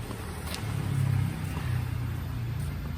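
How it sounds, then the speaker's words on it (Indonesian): A coffee washer machine used in post-harvest coffee bean processing runs with a steady, loud, low mechanical drone that holds constant throughout. "Ada mesin washer nih teman-teman."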